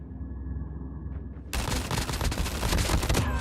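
Sudden loud automatic gunfire fired through a wall in the mobile shooter Call of Duty Mobile, breaking out after a quiet stretch with faint tones and continuing as a steady close burst.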